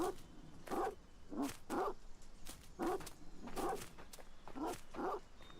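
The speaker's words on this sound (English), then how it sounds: "What are you barking at, dude?" A dog in the survival video game ASKA barks repeatedly in an even rhythm, about eight close, fairly loud barks with short gaps between them.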